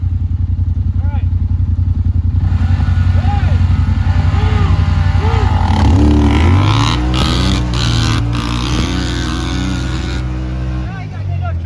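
Honda 450R dirt bike engine revving hard while riding off-road, loud rising and falling rev sweeps from close by, with voices talking over the engine noise.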